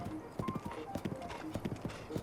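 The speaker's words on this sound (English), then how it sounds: "We got our horse." Horse hooves clip-clop in a quick, uneven rhythm of close, distinct strikes from the video game Zelda: Breath of the Wild, the horse wearing armor, with soft background game sound.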